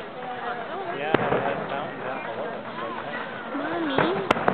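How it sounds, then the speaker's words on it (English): Canada Day fireworks in Victoria going off in the distance, a few sharp cracks and pops scattered under nearby talking voices of adults and children. "Like the fireworks?"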